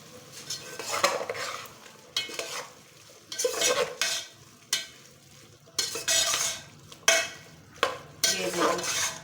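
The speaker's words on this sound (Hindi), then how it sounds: "अब हम इसको डाल देंगे इसके अंदर और अच्छी तरह से मिक्स कर देंगे।" Chilli, salt, turmeric and coriander powder are stirred into chicken jalfrezi in a pan, repeated bursts of spoon scraping and metal clatter over a low sizzle, close and uneven in rhythm.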